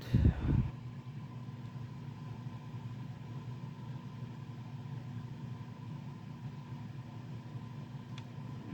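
Zubu wheelchair Walker electric motors turn the wheels in a steady, low, continuous hum after a brief bump at the start, running at an even pace with no voices.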